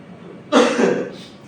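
A man with a cold gives a short, rough cough or throat-clear, one brief burst close to the microphone after a quiet moment.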